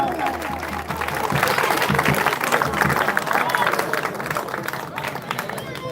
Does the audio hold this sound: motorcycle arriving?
no